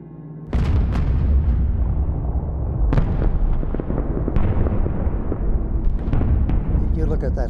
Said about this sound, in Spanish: Ves todo el fuego antiaéreo y te convences de que no saldrás vivo.